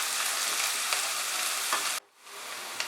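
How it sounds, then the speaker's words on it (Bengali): Chopped onions frying over medium heat for a chicken keema tadka, giving a steady, dense sizzle that cuts off abruptly and then returns more quietly. "কুচানো পেঁয়াজটা দিয়ে দিলাম। পেঁয়াজটাকে ফ্রাই করে নেব মাঝারি আঁচে"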